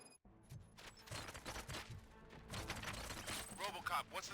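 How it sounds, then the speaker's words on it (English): Gunfire in the RoboCop: Rogue City video game, a burst of rapid shots and cracks layered with background music and effects, moderately loud, with voices speaking over it. "Gunshots? What's going on?"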